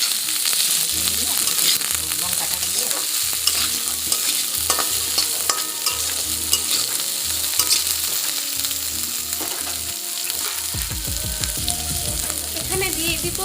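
Dried shredded coconut fries in oil with giant taro root curry, a dense, loud sizzle carrying rhythmic spoon scrapes and stirs throughout, with a sharper bubbling burst near the end.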